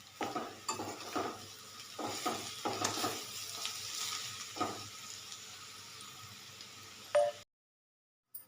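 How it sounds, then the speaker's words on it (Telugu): Carrots sizzle and fry in a pan with mustard seeds, cumin and urad dal tempering for a Telugu carrot curry, stirred with several spoon scrapes and clinks against the pan; steady close sizzling, then a sharp clink before quiet. "ఇప్పుడు క్యారెట్ వేస్తున్నాను."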